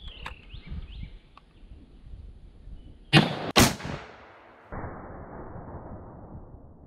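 A 50-110 WCF rifle fires a 400-grain hydrostatically stabilized bullet outdoors: a single sharp, loud report, then a quick second crack and a lingering fading tail.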